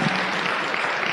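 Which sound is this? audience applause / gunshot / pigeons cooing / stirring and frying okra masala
audience applause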